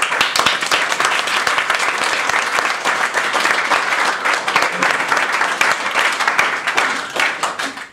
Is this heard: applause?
yes